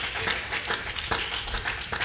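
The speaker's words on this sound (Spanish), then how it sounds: "Dele un fuerte aplauso al Señor." A church congregation claps during a special children's Sunday school service, the applause moderate and somewhat uneven, with a few sharper bursts of clapping standing out against the room.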